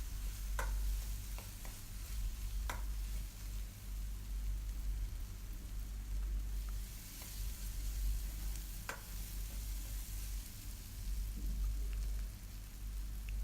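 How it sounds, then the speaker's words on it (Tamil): Masala and chili powder sautéing in oil in a pan for channa masala, a soft continuous sizzle with occasional stirring clicks and scrapes, quiet and close over a low hum. "சேர்த்து 2 நிமிஷத்துக்கு அந்த எண்ணெயிலே நல்லா வதக்கிக்கலாம்"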